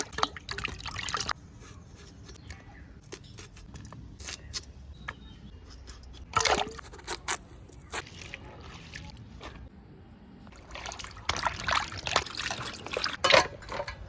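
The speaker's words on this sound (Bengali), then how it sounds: "সবজি ও মাছটা কেটে ভালো করে ধুয়ে নেওয়া যাক" Cut cabbage and catla fish pieces are rinsed by hand in a bowl of water, giving intermittent splashing, sloshing and trickling with a few light knocks, close and moderately loud, with no speech.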